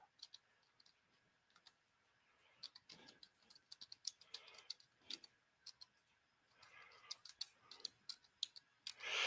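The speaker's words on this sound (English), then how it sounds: "I'm typing a little faster because I know that I was making you go." Faint, quick, irregular clicks from fingers typing on a computer keyboard, tapping in uneven bursts at close range.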